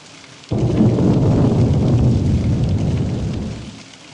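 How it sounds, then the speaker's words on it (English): Thunder in the video game Nun rolls in suddenly after half a second, a loud, broad rumble that fills the rest of the clip and slowly eases toward the end, with no talk over it. "I heard lightning."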